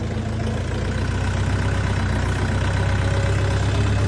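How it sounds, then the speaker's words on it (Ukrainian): The engine of an Orion 404 tractor idles continuously, a steady, low, even rumbling drone with no talk over it. "Приємний звук мотора"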